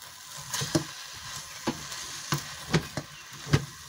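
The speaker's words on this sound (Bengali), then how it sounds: "এখন আমি খুব সুন্দরভাবে নেড়ে ছেড়ে মশলা কষার সঙ্গে আলু ঝুরি এবং পালং শাক মিক্সড করে নিচ্ছি।" Grated potato and spinach cooked with spices in a pan, a soft steady sizzle with a spatula scraping and stirring in irregular strokes, about eight distinct scrapes over a few seconds, close and alone.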